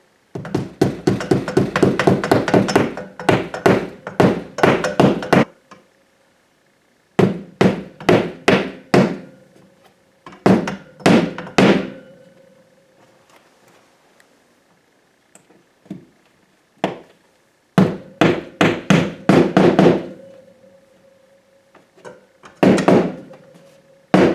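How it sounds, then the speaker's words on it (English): Hammer tapping molly anchors into a wall while a tool storage rack is being installed: sharp, loud strikes in quick bursts of several blows each, separated by short pauses. "We'll grab our hammer,"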